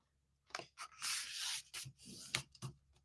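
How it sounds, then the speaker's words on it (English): A sheet of card stock is handled and folded in half at a crafting desk, giving a few close, soft rubbing and crinkling scrapes in short bursts with quiet gaps between them. "So I'm going to fold that one in half."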